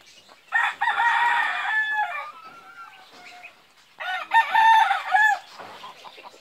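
A Golden Boy Sweater gamecock rooster lets out two loud, close crows, each a long harmonic call with a bright rising and falling contour, separated by a few seconds of quieter clucking and rustle.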